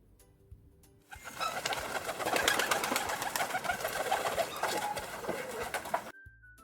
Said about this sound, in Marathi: गुटुरगु गुटुरगु गुटुरगु कोण करतं? कबूतर.